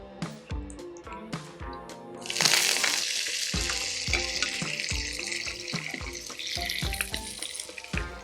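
Curry leaves hit hot oil with popping mustard seeds in a pan for a South Indian dish, starting with sharp crackles before a sudden loud burst of sizzling that continues steadily.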